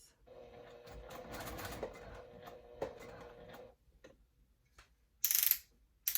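A domestic sewing machine runs a short burst of back stitching, a rapid mechanical ticking whir for a few seconds, then stops, followed by scattered clicks and handling noises.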